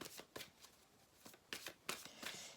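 Playing cards being shuffled during a tarot-style reading, a run of crisp riffling bursts and flicks at close range, alone with no talk.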